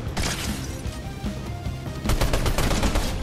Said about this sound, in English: Yes, that was my last shotgun shot.